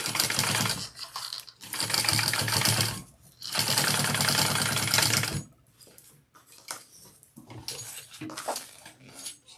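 Home sewing machine basting a backpack's exterior fabric, bursts of rapid mechanical stitching running in loud runs with pauses, then softer handling clatter; no talking.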